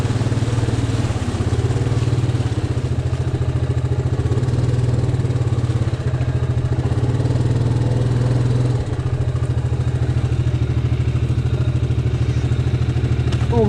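A vehicle engine drones steadily as it eases into shallow lake water, a loud continuous close hum with a faint sloshing wash over it.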